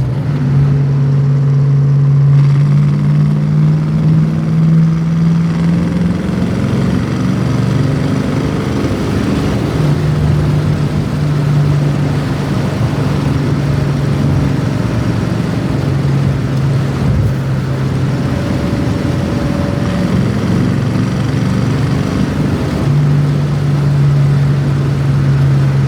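A 1966 Ford Mustang coupe with a well-built V8 fitted with AFR aluminum heads and a 5-speed gearbox drones steadily throughout a test drive, its tone rising and settling as the revs change, with no talking.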